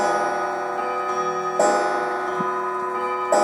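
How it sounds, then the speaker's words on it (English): Several grandfather clocks tick together in a room full of clocks, steady overlapping ticks with brighter chime-like strikes ringing out near the start, middle and end, loud and close with no talking. "You can hear all the clocks striking 12."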